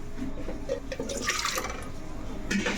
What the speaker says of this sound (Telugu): ఈ గిన్నెలో ఈ స్టాండ్ పెట్టేసుకుందాం వాటర్ వేసేసుకుందాం